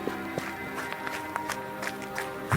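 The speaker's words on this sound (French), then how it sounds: "Il s'enfuit alors en courant jusqu'à sa voiture." Footsteps of a man running away toward his car, an effect in a French audio horror drama, as a quick series of soft, fairly even thuds over a low background bed.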